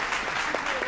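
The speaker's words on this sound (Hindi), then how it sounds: "एक बार ताली बजा दीजिए मेरे सम्मान में।" Studio audience applause at a Hindi political talk show about the Bihar election, a short burst of steady, fairly loud clapping from a crowd.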